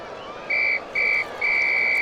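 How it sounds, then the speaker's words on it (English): A referee's whistle shrills during a 1970s NBA playoff basketball game, three loud blasts, two short and a final longer one, over a faint arena murmur. "Whistle and a foul on Ard, putting Free to the line for a pair."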